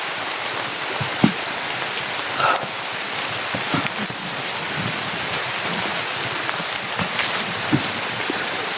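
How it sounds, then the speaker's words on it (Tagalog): Heavy rain pours steadily and close by, a dense continuous hiss with scattered louder drops and splashes, and no voices. "Lakas na yung ulan."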